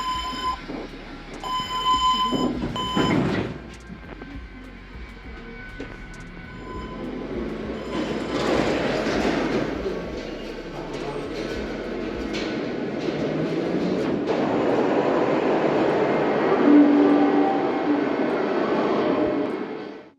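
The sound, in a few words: metro train running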